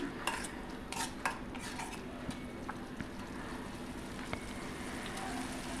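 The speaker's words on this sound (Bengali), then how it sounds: "দেখো একদম সুন্দর করে সমস্ত কিছু মিশিয়ে দেবো এখন।" A spoon stirs whisked yogurt mixed with spices in a pot for an aloo paneer dish, giving soft scraping and a few light clinks of metal against the vessel over a low background hum.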